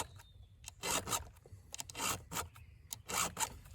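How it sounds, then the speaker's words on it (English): Rhythmic rasping strokes of a hand file sharpening chainsaw teeth, about seven or eight short bursts spaced roughly half a second apart, close and fairly quiet, with no talking. "just keep filing around"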